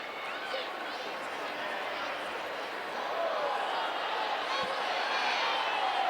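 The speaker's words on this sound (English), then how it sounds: "No whistle that time. Crowd a little surprised." A stadium crowd at a women's professional soccer championship final gives a broad, continuous murmur of surprise, a steady wash of many distant voices that swells slightly partway through and holds to the end.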